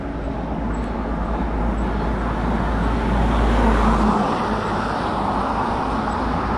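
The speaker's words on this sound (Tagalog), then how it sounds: "mga gulong na sasakyan, ang ingay." Steady, loud road roar of vehicle tires and passing traffic on a rough road, heard up close during a long motorcycle ride, with a low rumble that swells midway and then eases.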